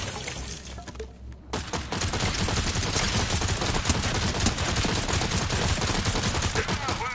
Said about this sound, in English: Trying to shoot the gun.